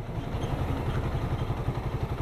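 A carbureted Suzuki Raider 150 motorcycle engine runs steadily nearby with a smooth, even low rumble and no ticking or clatter, holding constant for the whole stretch.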